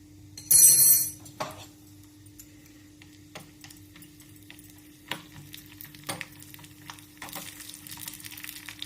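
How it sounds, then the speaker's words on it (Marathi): Sago crackling and sizzling in hot ghee, with a loud burst of spitting early on, then scattered sharp pops and soft frying hiss through the rest, close by and without talk. "आता चट चट चट चट आवाज आला की बस."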